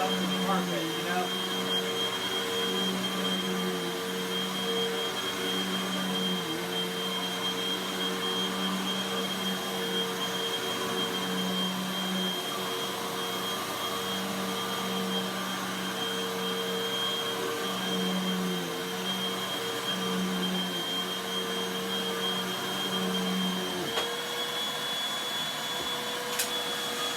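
A Hoover Windtunnel vacuum cleaner runs continuously on carpet, a steady droning whine with a high tonal hum, holding evenly throughout before a slight shift in pitch near the end.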